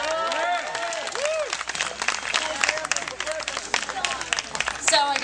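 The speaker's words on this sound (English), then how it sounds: "Warm round of applause for Monica Perez." Warm audience applause welcoming talk radio host Monica Perez to the stage, a dense burst of clapping mixed with cheers and whoops from the crowd, sustained and close, with voices calling out over it.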